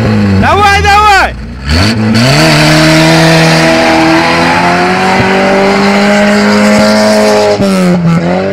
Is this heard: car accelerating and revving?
yes